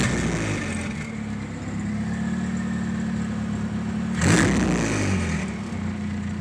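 Steady, loud rumble of a turbocharged car engine idling rich at 16 psi boost, with a brief throttle blip partway through before it settles back to idle.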